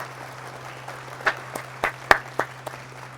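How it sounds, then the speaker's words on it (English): Applause played as a sound effect over an air traffic control stream comes through as a few scattered claps, faint and thin, over a steady low electrical hum. "Just play some applause for you on stream there, Alec."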